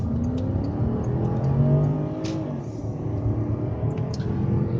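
A Porsche 911 accelerating hard with its engine revving, a loud, continuous, close mechanical roar whose pitch climbs steadily through the gears over several seconds.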